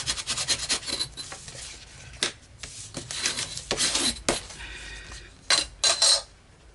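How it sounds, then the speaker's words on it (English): Paper is burnished down by hand onto a pop-up album page, giving close, dry rubbing and scraping strokes in irregular bursts, with a few louder sharp swipes toward the end and no talking. "just burnish that down again"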